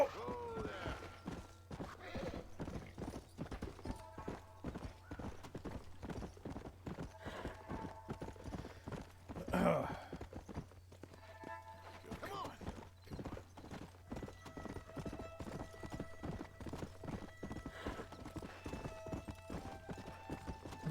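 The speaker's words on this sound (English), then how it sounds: "The game cannot keep up with how fast this horse is moving." A horse gallops in the video game Red Dead Redemption, its hooves beating in a fast, steady clip-clop rhythm throughout, with a whinny about halfway through and faint voices talking underneath.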